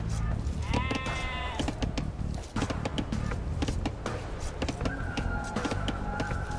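Sheep bleat in the Age of Empires II video game, several wavering calls heard over steady game music and ambient sound effects.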